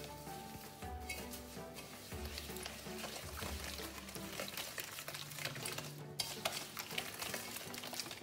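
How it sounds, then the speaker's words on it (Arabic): White and brown sugar are stirred together in a bowl for Moroccan fekkas biscuits, giving a continuous close gritty scraping and rustling with a faint background hum. "وغنخلطهم مزيان."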